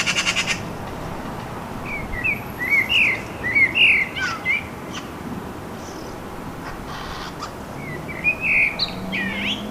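Wood pigeons calling near a nest site outdoors, short bursts of hoarse cooing and chirping notes that come and go in clusters over steady background hiss, moderately near, no voices.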